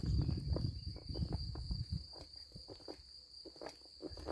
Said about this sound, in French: Les petites cigales, les petits criquets, il y a quelque chose d'excellent